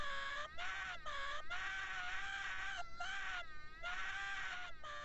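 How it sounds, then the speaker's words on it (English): A cartoonish high-pitched scream from Mario in the video game Dreams repeats in several loud, wavering bursts with short gaps between them, close and dominant throughout. "The Mario scream, very nice,"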